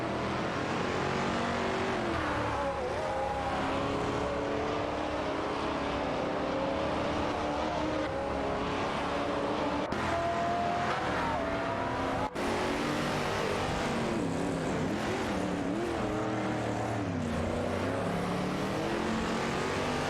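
AI-driven race cars in a racing video game zoom past in a continuous loud engine roar with rising and falling revs, several cars overlapping, with occasional abrupt cuts and no talking.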